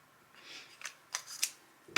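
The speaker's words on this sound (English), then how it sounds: "I think I'm just gonna snip it off." Scissors snip a Walmart Christmas ornament off, giving three or four quick crisp cuts close by, then one sharper loud clack at the end.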